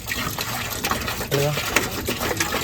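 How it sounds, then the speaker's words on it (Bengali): Water pours steadily into a bottle beside a truck, a broad gushing wash with a voice talking over it. "এইদিকে ভাই জল ঢেলে দিচ্ছি, বোতলে এক বোতল ধরে দেবে"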